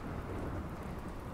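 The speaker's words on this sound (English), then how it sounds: "Well, I'm glad it started to rain, really." Steady rain and rumbling thunder from a storm in the video game Rimworld, a dense continuous downpour with low rolling thunder throughout, loud and without speech.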